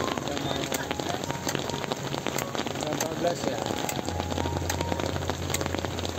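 Steady rain pattering on a Ford Everest campervan at night during beach camping, a continuous dense hiss with scattered drops, with faint speech partway through.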